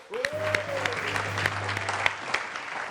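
A studio audience on a Niger TV talk show featuring Miss Niger 2023 applauds a guest. The claps are scattered and moderate, with a brief sliding tone and a low steady hum underneath.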